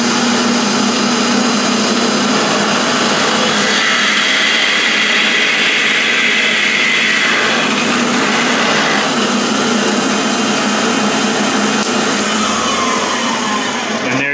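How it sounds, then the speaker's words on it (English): A drill press whines steadily at high speed for the whole stretch, loud and close, its pitch shifting slightly as the bit drills a hole in a guitar body. "That's as easy it is to drill that hole."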